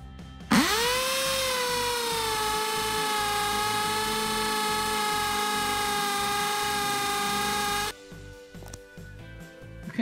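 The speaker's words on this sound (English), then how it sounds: "I'm going to be drilling a hole using a force and a bit so that the light socket will sit snugly in the base" A power drill fitted with a Forstner bit bores a hole in a lamp base for a light socket. It spins up sharply into a loud, sustained, steady whine for several seconds, then cuts off into a few quieter knocks.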